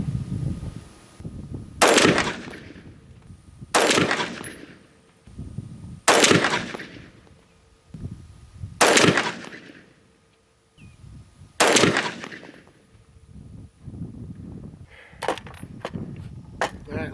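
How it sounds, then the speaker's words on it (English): Five sharp rifle shots are fired one at a time, a couple of seconds apart, while the shooter checks the rifle's zero. Each crack is loud with a short reverberating tail, followed by a few faint clicks and handling noises. "we're gonna shoot some more rounds to see what happens"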